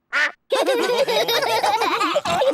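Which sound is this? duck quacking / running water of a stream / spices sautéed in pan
duck quacking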